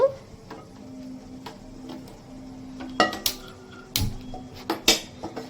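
A metal frying pan (kadai) set on a kitchen stove for making fish curry, with a few sharp clanks and knocks of cookware toward the end over a quiet background, and no talking.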